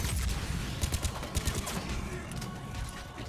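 A grenade explodes amid rapid gunfire in a Mass Effect 3 firefight, with dense crackling shots and sharp impacts layered over a loud, continuous battle din.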